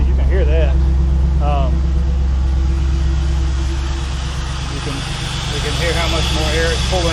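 A 4th Gen Camaro SS V8 fitted with a Volant cold air intake idles steadily and close by, a low continuous rumble, while a person talks over it.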